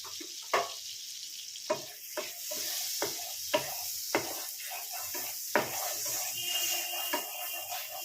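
Butter sizzles in a frying pan ahead of scrambled eggs, a steady bright hiss broken by sharp, close taps and scrapes of a utensil against the pan, with no talking.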